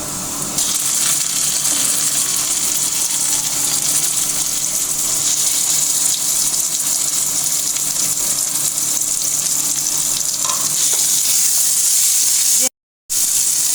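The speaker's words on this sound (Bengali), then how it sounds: "আদা রসুনের কাঁচা গন্ধ না যাওয়া পর্যন্ত ভাজতে হবে।" Ginger garlic paste fries in a pan for chicken curry, giving a loud, continuous hiss of sizzling oil that stays dense and even throughout, broken only by a brief dropout near the end.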